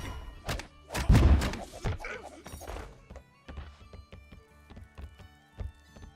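Enemy grenades landing and bursting in a video game, a cluster of heavy thumps and a louder low blast early on, followed by a run of sharper, quieter impacts, with no talk.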